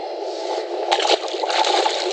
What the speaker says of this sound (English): Oh, he splashed me.